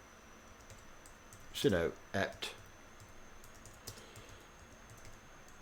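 A brief burst of computer keyboard typing, a quick cluster of clicks followed by a few scattered keystrokes, while a person speaks about a Kali Linux command.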